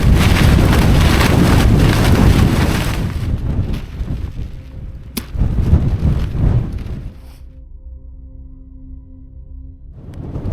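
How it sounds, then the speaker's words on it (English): Gusty wind on a blustery, rainy night at a wild campsite by a tent, roaring loudly and close for several seconds, then easing into a quieter lull with a faint low hum before picking up again. "It's a blustery, windy night, a little bit of rain"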